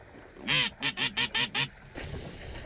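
A duck quacks six times in a quick, evenly spaced series, clear and close, during a South Texas duck hunt with a northern shoveler downed, followed by faint background noise.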